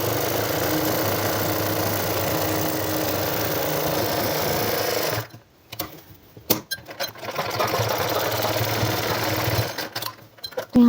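A sewing machine stitches along a shirt collar, a loud steady close whirr for several seconds, then stopping and restarting in short bursts before another sustained run.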